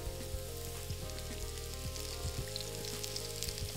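Mushrooms fry in oil in a hot pan, giving a steady close sizzle with faint crackles and an occasional stir, under a low electrical hum, with no talking.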